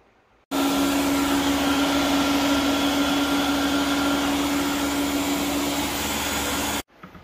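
A mixer blends corn mash in a barrel for moonshine, a steady loud motor whine with a constant hum starting abruptly and running for about six seconds before cutting off.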